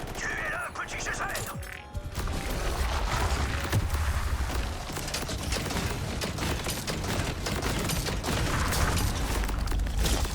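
Grenade launcher explosions in the video game Borderlands 4, with repeated booms and crashing bursts in quick succession amid loud game action, while someone talks over them.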